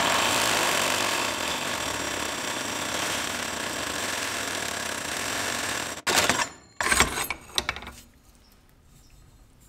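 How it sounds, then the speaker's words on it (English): A Harbor Freight tube notcher set at 90 degrees cuts through steel tube with a loud, steady grinding whir that stops abruptly, followed by a few short clanks and rattles. "Harbor Freight notcher, nothing too fancy. Got it set for 90 degree."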